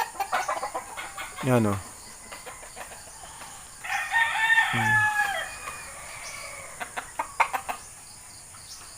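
Gilmore Hatch gamefowl cluck and a rooster crows twice, with brief bursts of clucking at close range. Someone says a couple of words.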